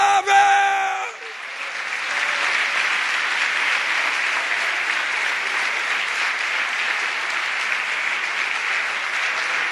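A congregation applauding during a church worship service, with a voice at the very start before steady, sustained clapping fills the room for the rest of the clip.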